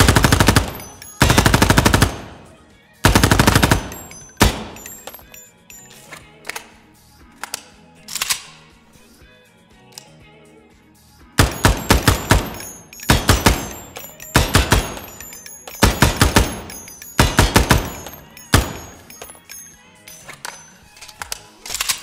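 Bursts of FAL Tactical rifle fire in the tactical shooter game Ground Branch, loud sharp rapid shots in several strings with gaps between them, some single shots, alone without talk.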